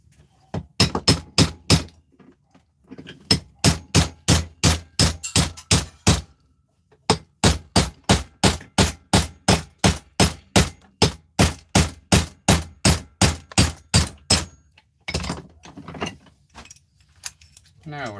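Greasy parts are hammered off a workpiece, giving rapid, regular, loud metallic strikes in long runs with a few short pauses between bursts, close and dominant throughout.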